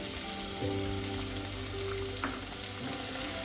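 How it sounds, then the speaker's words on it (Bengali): Onions frying in oil after whole cumin is tempered, a steady close sizzle with faint stirring scrapes and occasional light clicks, no voices. "পেঁয়াজটা দিয়ে আমি মিনিট 2-3 একটু ভালো করে লাল করে ভেজে নেব"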